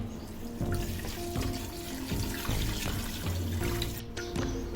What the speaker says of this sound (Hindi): अब मैं इसमें ऐड करने जा रही हूँ 3 गिलास पानी।